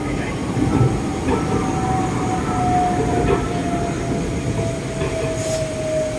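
Bangkok Pink Line monorail train running at Muang Thong Thani, a steady loud rumble from the car with a thin high whine sliding downward, heard from aboard with faint voices in the background.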